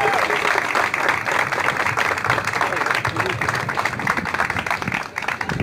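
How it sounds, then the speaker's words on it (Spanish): A festival audience claps loudly in welcome of a carnival's mock king, dense and steady, with voices and crowd noise mixed in beneath the applause. "por favor, un fuerte aplauso"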